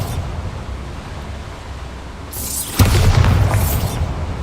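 A Bombarda spell in Hogwarts Legacy detonates partway through: a hissing magical whoosh builds into a sudden loud, deep explosion that rumbles on with debris-like crackle.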